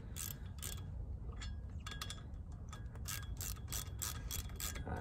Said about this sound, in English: We'll thread into those two threaded holes here, which will then pry the rotor off the back.